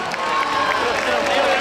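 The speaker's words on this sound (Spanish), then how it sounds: "Un fuerte aplauso para Gaspar en su esfuerzo." A crowd at a Three Kings proclamation event bursts into applause, a brief, dense wash of clapping with some cheering mixed in, heard at close range.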